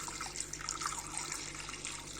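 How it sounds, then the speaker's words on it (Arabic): A glass of water is poured into a cooking pot for an economical breakfast or dinner recipe, making a steady, close, gently splashing stream that runs without a break. "نزيدو كاس تاع الماء تاعنا"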